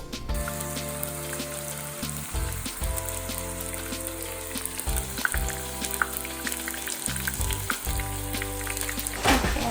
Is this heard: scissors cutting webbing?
no